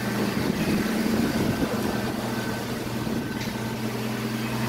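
Truck engine idling high on a manual choke while it warms up, a steady low droning hum with a faint whine above it, continuous and close with no talking.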